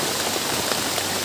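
Steady rain pattering on a surface nearby in a Bangladeshi village, a dense continuous hiss with occasional louder drops.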